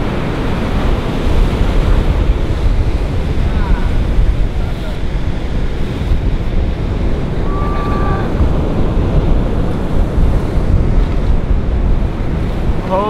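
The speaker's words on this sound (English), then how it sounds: "Look at how good that wave is." Ocean surf rolling and breaking in Mexico, a continuous loud wash of waves with steady wind noise across the microphone, and no talk over it.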